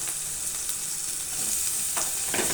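Bottle gourd pieces go into a pan where onions have been frying in hot oil, giving a steady, close sizzle with faint stirring and a louder crackle toward the end.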